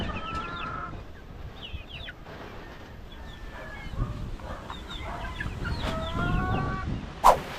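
Chicks peep and chirp in scattered high calls over a low background rumble, with a brief sharp clatter near the end.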